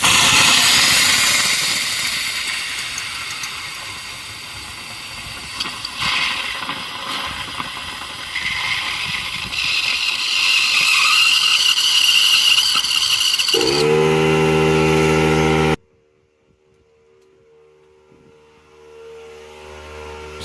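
An air compressor blows water out of a beach shack's water lines during a winter shutdown, giving a loud, continuous rushing hiss of air for about fifteen seconds. It then cuts off abruptly to a quieter motor hum.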